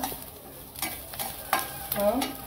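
Onion frying in a pan for a masala stuffed brinjal paste, with a soft sizzle broken by several distinct stirring scrapes at irregular intervals.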